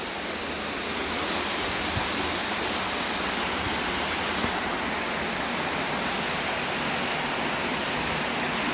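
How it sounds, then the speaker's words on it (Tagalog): Steady, dense hiss of heavy rain pouring down continuously, loud and close with no voices. "Malakas po yung ulan dito."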